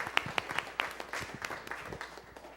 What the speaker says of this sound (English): you all should give yourselves a round of applause